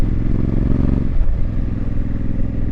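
A Honda Africa Twin fitted with a Fuel aftermarket exhaust idles outdoors on a cool evening, a loud, close, deep rumbling engine with a steady throbbing pulse and a brief dip in revs partway through.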